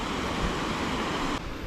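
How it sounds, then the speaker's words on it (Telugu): Water of the Ethipothala waterfall near Zaheerabad falls from above and flows down as a steady, loud, broadband rush, constant throughout with no voices, ending in a slight drop in level near the close. "ఆ పైనుంచి వస్తున్న వాటర్ ఇలాగే కిందకి వెళ్ళిపోతుంది."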